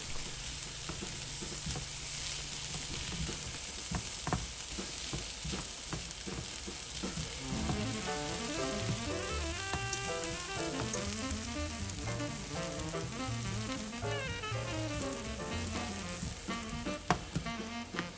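Beef pieces sizzle and fry steadily in a hot pan after Worcestershire sauce is added, with a constant close crackle and occasional stirring scrapes throughout, no voices.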